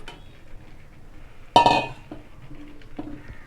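Eggs go into masala in a pan for an egg and drumstick aviyal. A sharp metallic clatter of utensil on pan rings out midway, framed by softer clinks and scraping before and after.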